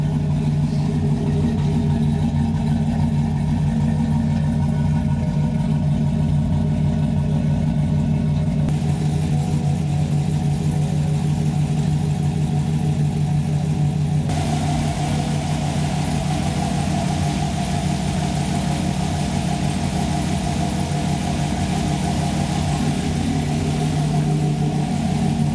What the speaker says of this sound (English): The Trans Am finally has an exhaust, and it's that much closer to being roadworthy.